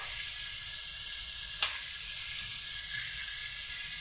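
Tomato and mint chutney mixture sautéing in a pan, a faint, steady hiss of frying throughout, with a single soft tap of a utensil near the middle and no talking.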